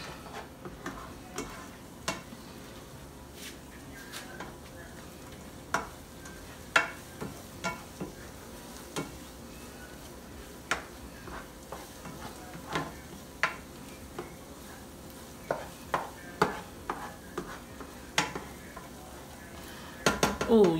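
Nigerian egg sauce cooks in a pan with soft, steady sizzling and scattered sharp ticks and clinks of utensils against the pan, moderately quiet and close, with no talking.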